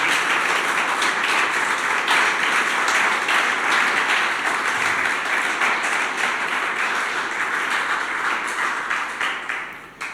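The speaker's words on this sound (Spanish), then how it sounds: "¿Por qué no le das un aplauso al Señor por esto?" A church congregation at a Spanish-language sermon bursts into loud, dense applause that holds strong for several seconds, then tapers and thins out at the end.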